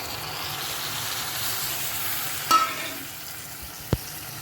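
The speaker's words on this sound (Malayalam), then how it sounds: "നമ്മൾ മുറിച്ച് വെച്ച തക്കാളി നമുക്ക് ആഡ് ചെയ്ത് കൊടുക്കാം" Chopped tomatoes tossed into a frying chicken curry give a soft, steady sizzle and hiss from the pan, with a couple of sharp clinks of a utensil against the pot.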